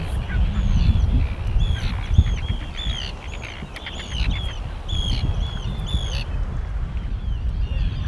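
Arctic terns harry fleeing geese in the open Arctic tundra, with repeated sharp high bird calls and honks overhead over a low steady wind-like rumble throughout.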